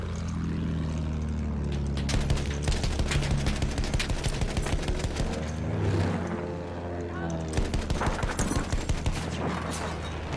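Battlefield 1 battle gunfire, dense rapid rifle and machine-gun bursts mixed with a droning aircraft engine, continuous and loud, with game voices speaking briefly.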